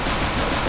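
Five-SeveN pistol fire in a video game, a short dense burst of shots at steady loudness with no talk.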